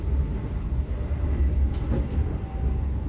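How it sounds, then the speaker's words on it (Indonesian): The Gaya Baru Malam Selatan passenger train passes straight through Sepanjang station in Indonesia, rumbling loudly nearby with a steady low roar and faint rhythmic clatter of wheels on the rails. "ini kereta api Gaya Baru Malam Selatan melintas langsung stasiun Sepanjang"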